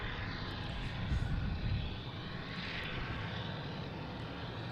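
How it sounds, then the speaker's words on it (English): Aer Lingus airliner lining up on runway 33 at Boston Logan International Airport: a faint, distant low rumble of engines holding steady, with no talk. "we have Aer Lingus lining up on 3-3"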